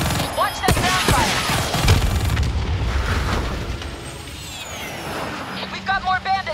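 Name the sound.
ground fire in the video game Call of Duty: Black Ops 3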